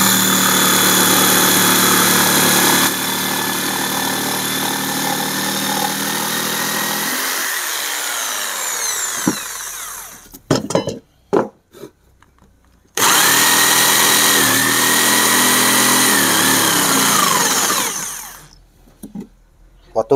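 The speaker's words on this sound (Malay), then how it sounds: "Proses seterusnya kita boleh memotong menggunakan gergaji." A power saw cuts wood for a traditional Sarawak parang sheath, loud whining bursts of sawing that stop and restart with quiet gaps between cuts.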